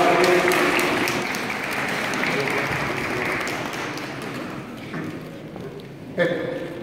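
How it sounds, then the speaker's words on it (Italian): A community gathering at a Christmas greeting applauds for a priest, a sustained, fairly close patter of clapping that slowly thins, with voices briefly audible near the end. "un applauso"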